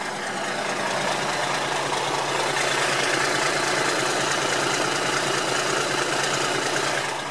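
A 1989 Ford L8000 rollback recovery truck idles after a cold start, its diesel-like engine rumbling and knocking steadily and loudly up close with no pauses.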